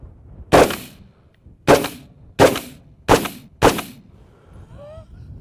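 A Gilboa DBR Snake double-barrel AR fires 5.56 rounds at a steel target downrange: five loud, cracking shots spaced under a second apart, followed by a faint metallic ring from the steel.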